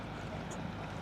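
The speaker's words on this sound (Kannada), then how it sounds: "ತುಂಬ ಬೋಟ್ಗಳು ಬರ್ತಾಯಿದೆ ಈ ಕಡೆಗೆ." Boats on the Dawki river in Meghalaya, a dense continuous rumble of motors and water wash with breezy noise, steady and fairly close, no voices.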